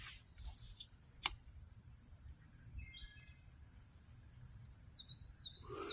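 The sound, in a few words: birds chirping outdoors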